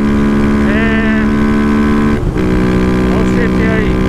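A Honda CB Twister 300F motorcycle engine drones loud and steady close by, with a brief dip and rise in revs midway, while a voice speaks over it.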